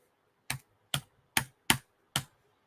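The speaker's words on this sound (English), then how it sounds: "If you could hear the tapping, that is me attacking my keyboard" Five sharp, evenly spaced taps on a computer keyboard, close and distinct against near silence, struck hard and fast.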